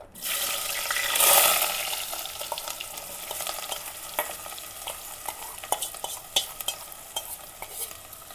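Two finely chopped onions hit hot oil with a loud hiss, settling into a steady sizzle broken by scattered clicks and scrapes of stirring, while cooking beef vindaloo.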